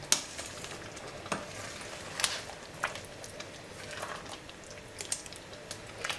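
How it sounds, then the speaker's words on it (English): Oil melting in a pot for a vegan Nigerian bean stew (ewa riro), giving a soft, steady sizzle at close range with occasional sharper clicks and scrapes, no talking. "And let our oil continue melting."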